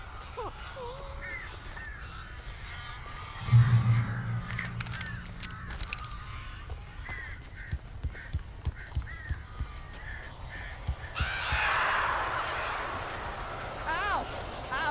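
Crows cawing in the Alan Wake video game, several harsh caws scattered over a dark ambient background with a heavier thump and a dense burst of flapping and calls near the end, while a voice talks.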